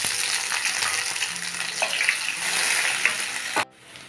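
Two finely chopped onions sizzle steadily in hot oil in a pan, a close, even frying hiss with faint stirring, cutting off abruptly near the end.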